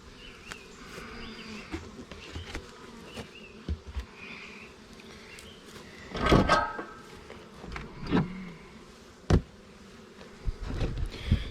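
Honeybees buzzing around their hives while hive boxes are rearranged, faint and intermittent buzzing passes with a few knocks and thumps of equipment.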